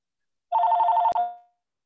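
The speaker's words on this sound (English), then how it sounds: "answer the phone." A telephone bell rings in one close, loud burst of rapid trills lasting under a second, ending in a sharp click and a short fading ring.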